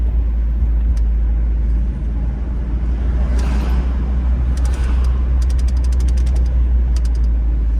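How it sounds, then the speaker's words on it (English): Heavy afternoon traffic on a city street near 20th and Sedgley, cars rumbling past in a loud, continuous low roar with passing vehicles swelling and fading, heard from inside a moving vehicle. "It's a lot of traffic."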